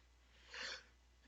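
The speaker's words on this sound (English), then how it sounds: "that's how I sneeze" One brief, quiet sneeze from a person bursts out once against a low, steady background hum, with nothing else around it.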